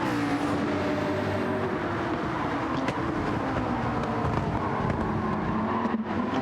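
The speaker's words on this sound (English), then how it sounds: "Great shot there on the McLaren as he powers on up the hill" A McLaren GT3 race car in a sim racing game powers uphill, a steady loud engine drone with rising pitch under gear load, continuous and close with faint background noise.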